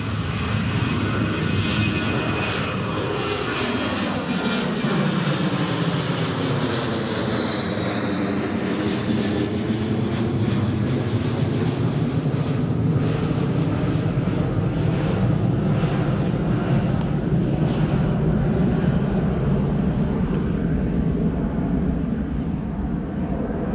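An EasyJet airliner at Newcastle Airport passes with a loud, steady jet engine roar, the pitch sweeping as it goes by, then a long continuous rumble with no talk.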